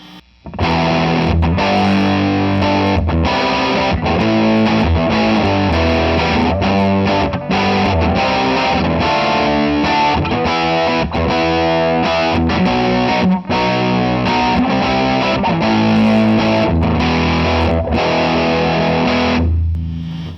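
Heavily overdriven electric guitar chugs through a cranked Line 6 Flextone II amplifier, thick and saturated, playing continuously and loud for the whole stretch.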